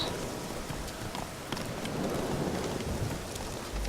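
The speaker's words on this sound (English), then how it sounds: "A long distance requires a horse." In The Witcher 3: Hearts of Stone, horse hooves clip-clop at a steady trot over a dense bed of rain, constant and moderately loud throughout.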